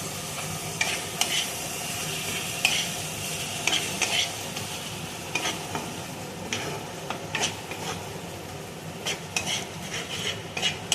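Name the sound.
frying ginger garlic tomato paste for biryani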